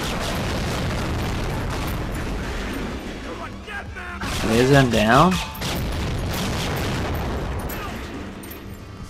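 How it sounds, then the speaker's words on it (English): A mid-distance explosion in Agent Under Fire, a muffled boom that swells briefly and fades over about a second amid game noise, while someone talks over it. "You were way far away from that explosion."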